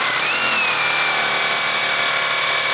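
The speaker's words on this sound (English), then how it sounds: "we do need to grind off this pipe next" An angle grinder cuts off an EGR pipe on a Nissan 300ZX Z32, a loud steady high-pitched whine with a slight pitch shift early on, continuous throughout.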